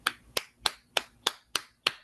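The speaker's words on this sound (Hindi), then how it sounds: "उसकी आवाज़ को हम ज़ोरदार तालियों में वेलकम" At a youth prayer meeting, a congregation claps together to welcome God's word: seven crisp, evenly spaced claps in a steady rhythm, fairly quiet, with no talking.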